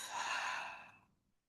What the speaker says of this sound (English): Inhale through the nose. Exhale out the mouth.